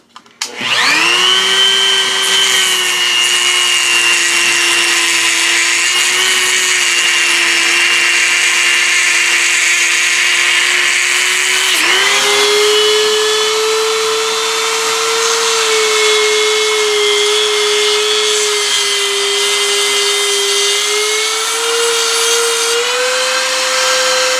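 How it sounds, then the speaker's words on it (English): A Dremel rotary tool fitted with a diamond blade cuts into vinyl flooring beneath a vanity, a loud, steady high-pitched motor whine that runs continuously throughout and shifts pitch partway as the load changes, with no talking. "It's got a Dremel with a diamond blade on it. Really easy to make a cut in there"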